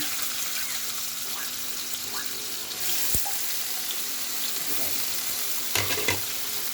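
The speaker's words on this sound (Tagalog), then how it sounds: "Then, lagay na natin yung hinihiwang ham." Sliced ham dropped into rice frying in a pan, a steady sizzle with a few sharp clacks of utensils against the pan, fairly close, with no talking.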